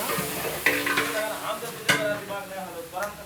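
Ginger garlic paste sautéing in a pan for restaurant-style chicken biryani, a soft continuous sizzle broken by a couple of sharp spoon-against-pan scrapes and stirring knocks.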